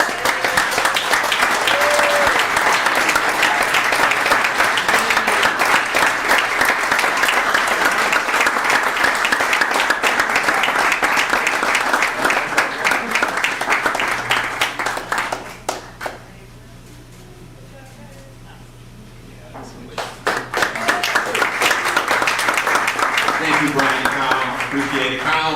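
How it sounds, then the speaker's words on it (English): An annual meeting audience gives loud, sustained applause for award recipients, the clapping dropping away briefly around fifteen seconds before swelling again near the end, with voices mixed in. "So I just wanted you to also give a huge round of applause to our recipients"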